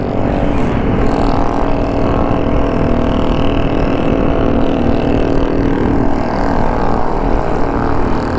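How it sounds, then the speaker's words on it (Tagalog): A loud vehicle exhaust roars on a road in the Philippines, a dense continuous drone with rising and falling pitch as traffic passes close by; no voices. "Oh, ang ingay na tambucho, ready na sila sa New Year."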